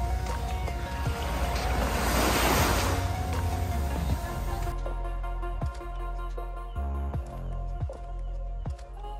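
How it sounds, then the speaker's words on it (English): Surf washing ashore on Palawan Beach, Sentosa Island, Singapore, a broad wave swelling and receding in the first half, then a quieter steady wash with faint scattered knocks and ambient beach noise. "This beach here is known as Palawan Beach, and it might just be one of the best beaches in all of Singapore."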